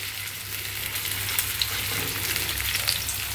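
Poa fish sizzles in hot oil in a pan, a constant close crackle dotted with light pops, loud and unbroken.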